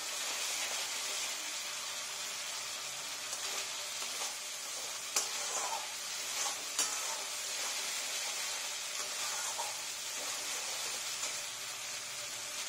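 Masala spices frying in a pan and cooked until darkened, a steady close sizzle and hiss with a few sharp pops and stirring clicks, no voices.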